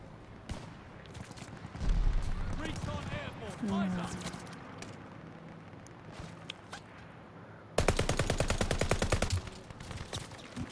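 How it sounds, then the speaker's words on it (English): Call of Duty machine gun fire in a long rapid burst near the end, with scattered game gunshots and effects earlier, while someone talks over the action. "I could unload a whole 80 bullets and barely touch them."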